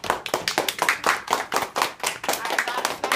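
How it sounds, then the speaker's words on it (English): A class of children claps in a round of applause, a close burst of rapid, uneven hand claps that runs the whole stretch with voices mixed in. "Give them a round of applause."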